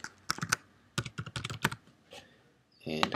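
Computer keyboard typing while entering an email address on a website registration form: quick bursts of clicking keystrokes in irregular runs, close and fairly loud, with a pause before a final flurry.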